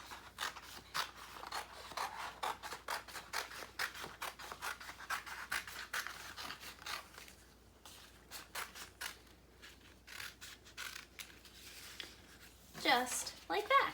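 Scissors cutting around paper for a craft apple stack headband, a close, quiet run of snipping and rasping strokes that pauses midway, then a brief rustle of handled paper at the end.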